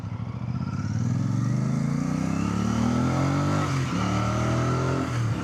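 A Royal Enfield Bear 650 motorcycle engine and exhaust pull strongly while riding, the note climbing steadily as it accelerates, then dipping briefly and rising again, loud and close with no talk.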